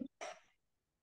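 A single sharp sneeze bursts out once after a brief faint breath, fairly close and loud, then fades into silence.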